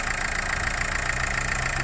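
A Renault Megane 4 with a K9K engine idles with a steady, even drone and no knocks or irregular beats, heard close and alone.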